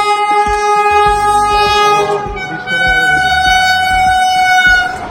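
The 22895 Howrah–Puri express train passes close by, its horn blaring in long sustained blasts over the rhythmic clatter of wheels on rail joints.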